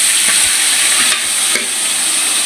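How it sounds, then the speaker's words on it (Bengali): Big silver carp pieces frying in hot oil, a loud steady sizzle with crackling spits and pops throughout, close up with no talking. "বড় মাছ তো ফুটে বেশি ভাজার সময়"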